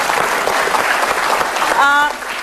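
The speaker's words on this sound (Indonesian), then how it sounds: "Boleh tepuk tangan untuk Ibu Nafa." Studio audience applause at an Indonesian televised talk show, a dense steady wash of clapping throughout, with a brief cheer or whistle rising over it near the end.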